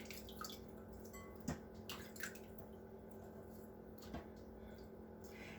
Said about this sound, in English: Wash it, and wash it.